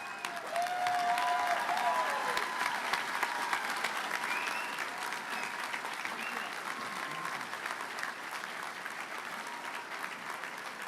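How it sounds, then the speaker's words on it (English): Sustained audience applause for law graduates at a spring university commencement, a steady wash of many hands clapping that holds evenly for about eleven seconds and fades slightly near the end, with some crowd murmur beneath. "Let's give a round of applause to our graduates."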